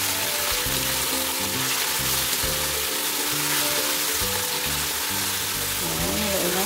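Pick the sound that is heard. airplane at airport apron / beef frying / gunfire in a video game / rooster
beef frying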